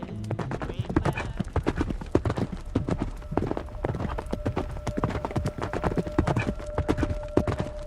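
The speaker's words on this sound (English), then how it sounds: "Out of the darkness they came, the heavy, thundering hooves of the horses" Horse hooves pound heavily in a dense, rhythmic clip-clop, close and continuous, with a brief whinny and faint voices mixed in.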